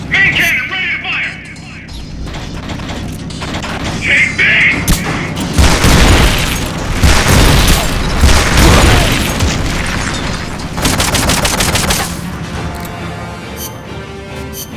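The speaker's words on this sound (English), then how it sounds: "Main cannon ready to fire!" Heavy booming tank main cannon blasts and explosions in Metal Gear Solid: Peace Walker, repeated bursts with gunfire crackle, loud and close, with a voice shouting briefly over the action.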